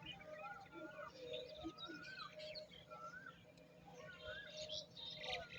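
By a village riverbank, several birds call back and forth, with repeated chirps and whistled notes and a soft dove-like coo, moderately distant over quiet outdoor background.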